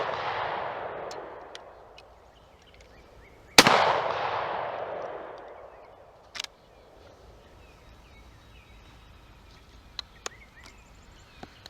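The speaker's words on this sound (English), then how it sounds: "Let's shoot one more group of those Winchesters." A single loud shotgun blast firing a Winchester shell outdoors, a sharp crack followed by a long rolling echo, then a fainter distant report and a few small ticks in a quiet field.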